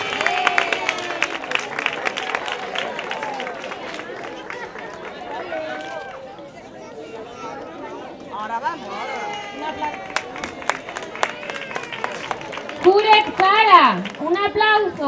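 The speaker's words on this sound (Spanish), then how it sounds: "Sofía, un aplauso." Audience applause at a school end-of-year ceremony in Almonte: a dense, steady patter of many hands clapping throughout, with voices and children calling out over it and a louder burst near the end.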